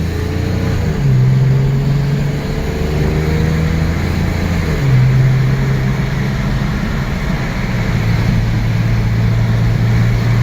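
An old car drives down the road, recorded from inside: a loud, steady engine drone with a couple of shifts in pitch as it changes gear and pulls along, and no talking.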